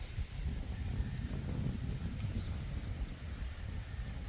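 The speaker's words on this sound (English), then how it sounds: "It is sure windy today." Wind blowing outdoors on a farm, a steady low rumbling buffet against the microphone with faint rustling, continuous and moderately quiet with no clear voices.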